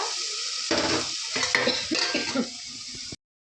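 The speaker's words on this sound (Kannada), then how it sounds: "ಎಲ್ಲ ಕ್ರಂಚಿಯಾಗಿ ಫ್ರೈ ಆಗ್ತಾ ಇದೆ" Mixed vegetables, peas among them, frying crisply in oil in a pan for bisibele bath, a steady close sizzle overlaid with clattering stirring and utensil scrapes against the pan, alone without talk.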